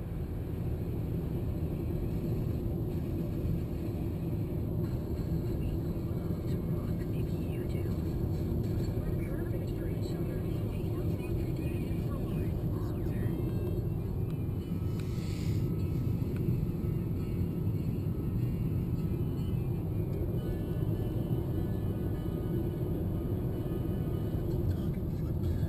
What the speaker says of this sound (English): So here's some footage as we drive down towards Mesquite and the Bundy Ranch